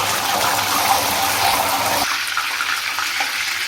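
Salt water poured into a pan of hot oil where banana wafers are frying, a loud steady sizzling and splashing gush that eases after a couple of seconds into a quieter crackle.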